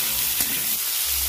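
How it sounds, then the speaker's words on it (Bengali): Pumpkin pieces fry in hot oil with whole cumin, giving a soft continuous sizzle and hiss at low volume, with one brief clatter near the start. "কুমড়োটা ভেজে নিচ্ছি লাল করে"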